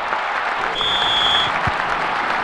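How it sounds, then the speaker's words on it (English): A stadium crowd cheers and applauds in the football game ISS Pro Evolution, a dense, steady roar with a brief whistle-like tone partway through, heard without any commentary over it. "The crowd had gone quiet for a moment there, but they've woken up."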